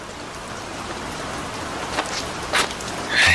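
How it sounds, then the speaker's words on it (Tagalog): Heavy rain pours down in a steady, even hiss, with a few brief clicks and a louder burst of noise near the end. "sa mga rider na susuong sa napakalakas na ulan na yan"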